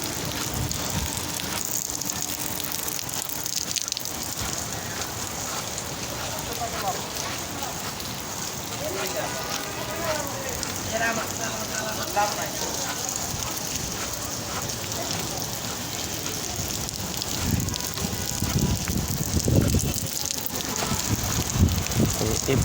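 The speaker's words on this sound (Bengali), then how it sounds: "বৃষ্টি হইতেছে তো অনেক পিচ্ছিল" Rain falls steadily near a railway line, a constant fine hiss of drops on the ground and foliage heard up close throughout while someone talks and moves about.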